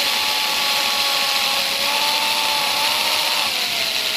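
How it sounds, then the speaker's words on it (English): A power drill runs continuously with a loud, steady whine while swapping a model Dornier Do 217 propeller, its pitch dipping slightly near the end. "I've just got the drill braced up against my ribs."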